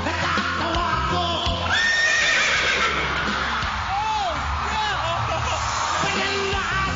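A person imitates a horse's neigh in a talent show setting, producing several whinnying calls with rising and falling pitch over a noisy, cheering crowd, including yells, with clip-clop-like sounds mixed in.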